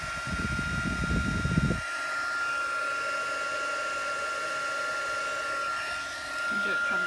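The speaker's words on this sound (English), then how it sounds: "So I'm just going to put my heat gun on now." A heat gun blows hot air onto craft card, first with a brief loud rough burst, then settling into a steady whining hiss with a high tone that lasts, rising slightly near the end, no talking.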